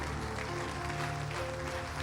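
A congregation at an evangelical church service applauds, a soft, dense patter of clapping under a sustained tonal drone from instruments or a keyboard, steady and fairly faint throughout the two seconds.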